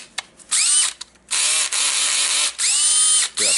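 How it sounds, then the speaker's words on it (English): A Makita DDF456 cordless drill whirs in loud bursts, its clutch ratcheting in rapid clicks during each run, with short pauses between several spins and no talk. "Checking the clutch."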